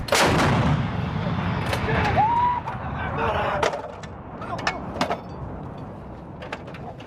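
An M777 towed 155mm howitzer fires during a U.S. Marines live-fire exercise, one heavy boom opening the clip and its rumble slowly decaying, with further sharp distant reports and clanks afterward; no talk.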